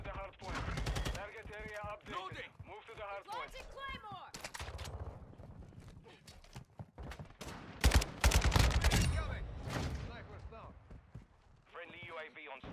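Kastov 762 AK-style rifle fire in Call of Duty Modern Warfare II, with rapid bursts of game gunfire and other game sounds mixed under steady excited talk throughout.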